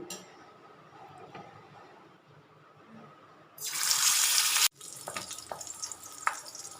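Boal fish going into hot oil, a loud bright sizzle bursting in suddenly, cutting off, then settling into a steady crackle with small pops, after a quieter stretch of low kitchen noise.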